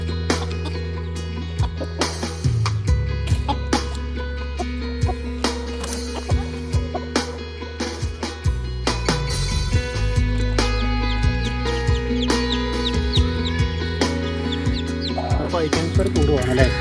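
Chickens and chicks clucking near a coop, with repeated short calls mixed into a busy background of talk and other sound.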